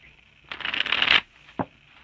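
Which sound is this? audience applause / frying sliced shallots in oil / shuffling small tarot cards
shuffling small tarot cards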